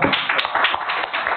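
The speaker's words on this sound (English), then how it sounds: "Let's give a round of applause." Audience clapping for panelists at a conference, a short burst of many hands applauding at moderate level, fairly close and without talk.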